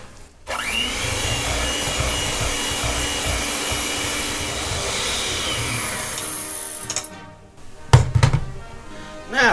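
A stand mixer works dumpling dough with cheese for apricot dumplings, a steady whirring drone that runs for about seven seconds, then stops. A few loud thumps and clatters follow near the end.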